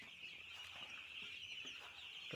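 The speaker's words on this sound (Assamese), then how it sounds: "তো দেখিছে আপোনাৰ মুৰ্গীখিনি কেনেধৰণৰ আছে।" Week-old broiler chicks crowded in a winter poultry shed keep up a steady, shrill chorus of peeping and soft clucks, fairly faint and even, with occasional closer calls and no talking.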